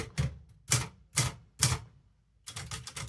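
Keys on a manual typewriter strike in four crisp, evenly spaced clacks, then pause before a quicker cluster of strikes, loud and close with no voices.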